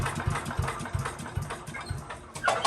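Small gasoline engine on an MTD chipper shredder, run on fast choke, chugs in a steady, rough, loping rhythm close by, with a brief louder burst near the end.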